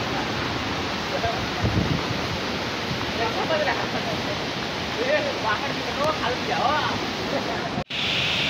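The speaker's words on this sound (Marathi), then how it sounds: "काय तो धबधब्याचा गरगराट आवाज." Roar of the Bhivtas waterfall at Surgana, a steady broadband rush of falling water that holds for most of the stretch before cutting out abruptly near the end, with faint voices mixed into the wash.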